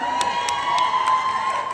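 A crowd cheers and shouts at a lively variety show, with sharp bursts of clapping and whoops over a steady roar, moderately loud and close.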